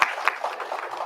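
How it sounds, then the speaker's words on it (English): An audience at a school board strategic plan workshop claps for a speaker, giving a brief, steady patter of applause at moderate volume. "Give her a round of applause."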